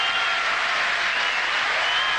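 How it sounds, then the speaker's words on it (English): A tennis crowd in Florianópolis applauds Australia's upset win, Hewitt over Kuerten, in a broad, steady wash of clapping that holds at full strength for a couple of seconds with no voices on top. "The crowd applauding a stunning, what they see as a stunning upset victory for Australia over the home team"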